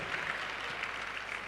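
An audience at a University of Abuja event claps steadily, a soft, even patter of many hands at moderate distance throughout.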